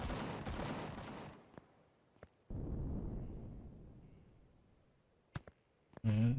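Gunfire in Empyrion Galactic Survival comes as sharp, isolated shots and short bursts spread across the moment. Broadband noise swells and fades between the shots.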